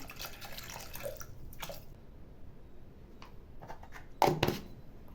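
Water splashes and pours in short bursts, with a louder pour near the end, close by and without talk.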